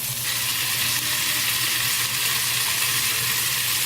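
Cajun-seasoned potatoes with salt sizzle steadily in a hot pan, a loud, continuous frying hiss that holds evenly throughout without any talking.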